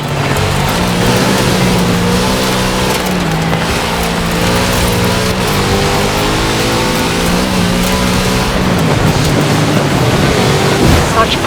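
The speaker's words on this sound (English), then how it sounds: "Such power in the big Chevrolet engine." Big Chevrolet car engine in Forza Horizon 4 revving hard and continuously, a loud sustained growl with shifting pitch as it climbs and settles, backed by steady road and wind roar.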